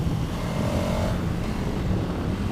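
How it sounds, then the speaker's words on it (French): KTM Super Adventure 1290 S big V-twin motorcycle engine at low revs using its torque, a steady, dense rumble mixed with wind rush while riding, no talk. "Ce gros bicylindre presque paresseux, t'es pas obligé de monter dans les tours avec."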